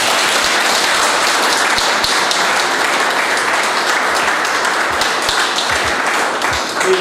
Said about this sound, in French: Mesdames, Messieurs, je vous prie de donner un tonnerre d'applaudissements pour Monsieur Serge Loris Eteki Eloudou.